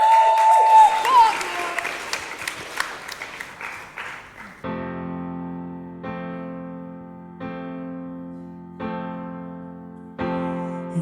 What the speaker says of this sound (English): Ladies and gents, round of applause, please